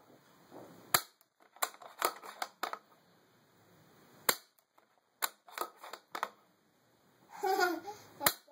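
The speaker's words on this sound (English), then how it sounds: "you just squeeze the trigger with the tip of your finger. Nice and slow. Gun goes off." A bolt-action rifle fires a series of sharp, brief cracks at irregular intervals, some in quick pairs and others spaced seconds apart, sounding somewhat distant against a quiet background.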